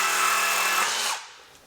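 A power tool cuts through a rusty old exhaust pipe on a Toyota GX81, a loud, harsh grinding roar lasting about a second before it cuts off and fades.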